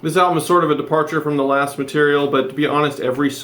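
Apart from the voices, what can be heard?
No distinct noise like a dog, phone or traffic.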